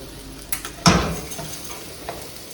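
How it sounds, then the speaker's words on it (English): Barley grains toasting in a pan for a Diablo-inspired pilaf, stirred: a soft background sizzle broken by a few scraping utensil strokes, one louder clatter near the start, close and without voices. "Then gonna throw it in there for another 5 minutes until the barley is actually toasted."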